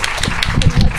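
An audience at a book festival panel claps in a brief burst of loud, dense applause with many overlapping hand claps.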